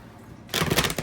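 A quiet pause gives way to a burst of rapid papery riffling and flapping, close and brisk, as a deck of cards is shuffled.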